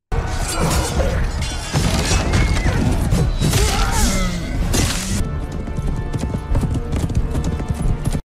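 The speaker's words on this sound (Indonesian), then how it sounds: "Halbrand berhasil menghalangi Adar dengan menjatuhkannya dari atas kuda" Horse hooves clip-clop loudly and steadily in a battle scene where a rider is knocked from his horse, mixed with crashes and thuds of combat.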